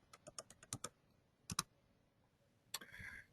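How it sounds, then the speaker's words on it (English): Quick bursts of typing on a computer keyboard, with sharp clustered key clicks, a short pause, another pair of taps, then a final rapid run of keystrokes; close, faint and without talk. "if you like using your computer's keyboard, that is no problem. I'll do that right now."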